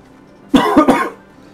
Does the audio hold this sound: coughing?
yes